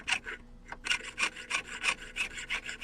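Rhythmic rasping strokes of a jeweler's saw piercing metal for earrings, steady back-and-forth pulses about three per second, close and alone with a short pause early on.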